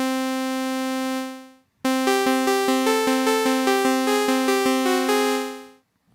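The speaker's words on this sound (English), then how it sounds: "If I do sawtooth, it sounds like this." A bright, buzzy sawtooth wave from a synthesizer oscillator in Ableton sounds first as one sustained note, then after a short gap as a run of quick stepping notes played alone on a computer keyboard.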